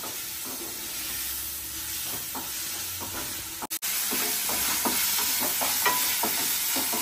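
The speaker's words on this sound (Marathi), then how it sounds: "आता आपण हे ना तेलावर थोडंसं भाजूया." Paneer frying in hot oil with ginger and garlic over a gas flame: a steady, loud sizzle with scattered scrapes and clinks of stirring, a brief dropout midway, then crackling resumes slightly louder.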